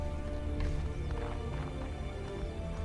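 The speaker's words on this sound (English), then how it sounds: "My horse ran away." A horse's hooves clip-clopping at a gallop in a Lord of the Rings video game, a steady rhythmic beat of repeated hoof strikes with a whinny, heard alone at moderate loudness.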